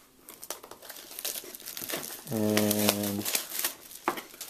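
Plastic wrapper tearing and crinkling open on a Boxee TV box, a close rustling crackle with a brief steady tone in the middle, mixed with someone speaking.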